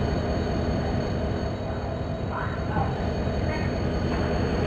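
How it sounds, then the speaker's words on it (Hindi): Rail rumble of a train pulling into a station platform in Microsoft Train Simulator, a steady low roar heard up close, with a voice carrying over it. "बांद्रा टर्मिनल अरावली एक्सप्रेस कुछ ही समय में प्लेटफॉर्म क्रमांक तीस पर आ रही है"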